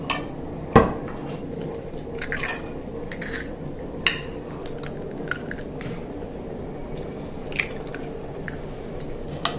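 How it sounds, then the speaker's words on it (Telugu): Eggs being beaten in a bowl with a spoon, a series of light clinks and taps of metal against the bowl, irregular and close, with soft sloshing between the strikes. "ఇలా చేసుకొని ఎగ్స్ కొట్టేసుకోండి దీంట్లో"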